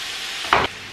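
Sausages and onions fry in a pan with a steady, close sizzle, broken midway by a brief, louder scrape of stirring.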